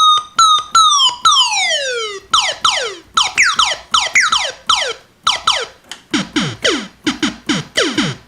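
ARP Odyssey 2810 synthesizer with its oscillator pitch driven by the ADSR envelope, firing a run of sharp downward-sweeping zaps, first slow and spaced, then faster and denser, bright and loud with no talking.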